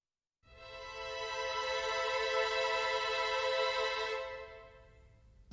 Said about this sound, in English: A ninth chord on top of that would sound like this.